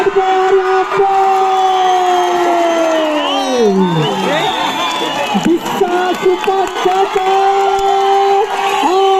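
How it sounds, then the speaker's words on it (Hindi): Spectators at a kabaddi semi-final between Shillai and Paonta Sahib clap and cheer in a sustained, lively roar, while a commentator talks loudly over the crowd throughout. "यहाँ पे दर्शकों की तालियों की गड़गड़ाहट काफी दूर तक सुनाई दे रही है।"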